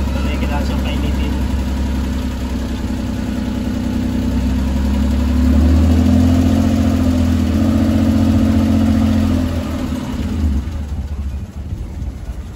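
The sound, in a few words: multicab engine warming up after oil change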